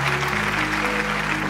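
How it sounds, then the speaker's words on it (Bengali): Loud applause from a studio audience on a Bengali family reality show, a steady wash of clapping filling the short moment, with low background hum underneath. "আপুর জন্য একটা জোরে হাততালি হবে।"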